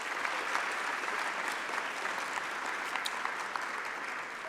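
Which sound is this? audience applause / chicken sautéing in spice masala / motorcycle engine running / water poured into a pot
audience applause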